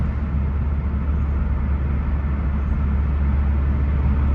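A Renault Megane RS engine drones steadily in sport mode, heard through a slightly open car window as a low, continuous rumble with road noise, moderately loud and unbroken, with no talk over it.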